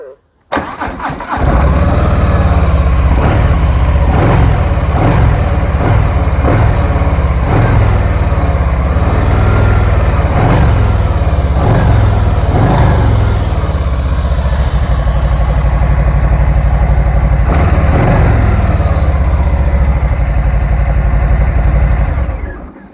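Harley-Davidson motorcycle engine with a newly replaced intake manifold starts up and settles into a loud, steady, throbbing idle close by, continuing unbroken for about twenty seconds.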